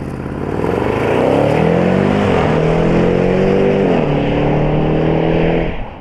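The 550-horsepower 5-litre V8 of a Jaguar F-Pace SVR revs loudly up close, its pitch climbing, dipping and climbing again over several seconds before cutting off.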